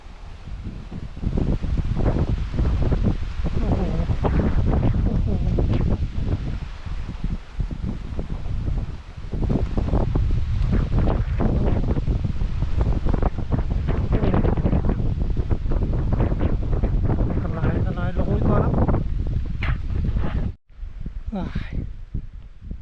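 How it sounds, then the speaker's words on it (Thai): Strong wind gusts buffet the microphone and shake trees beside the water during a fishing outing, a loud continuous roar with rustling and faint voices in it, cutting out briefly near the end. "ลมแรงครับช่วงนี้"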